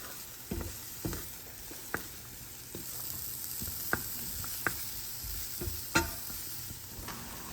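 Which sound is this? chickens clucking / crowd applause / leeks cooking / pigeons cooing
leeks cooking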